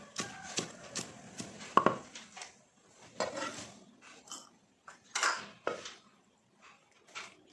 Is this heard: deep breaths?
no